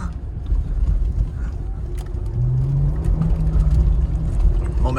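A 2017 Porsche Macan S pushing through beach sand, its engine droning low and steady with a rising tone as it keeps momentum, under a rumbling, buffeting undercarriage noise.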